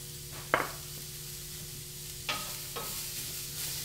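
Diced garlic hits a hot pan of tender vegetables for a shrimp parmesan, giving a soft, steady sizzle with a few sharp stirring scrapes and clinks of the utensil, no voices.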